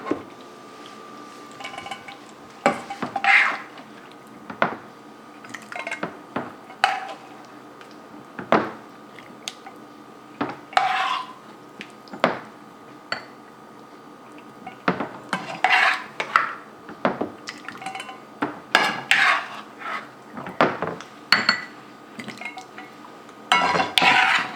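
Spoonfuls of cooked chicken pot pie filling land in individual baking dishes lightly coated with cooking spray, giving irregular clinks and scrapes of spoon against dish. The clatters are sharp and close, spaced out, with no talking.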